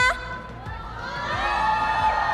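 A large arena crowd at a Honor of Kings esports knockout event cheers and shouts, the roar swelling steadily with high whoops and screams rising above it.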